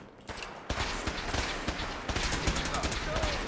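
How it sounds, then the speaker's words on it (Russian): A carbine fires in Fallout 4 with rapid, crackling bursts of shots. The gunfire comes in close, dense volleys over a noisy game background. "Карабин шикарен. Столько выстрелов."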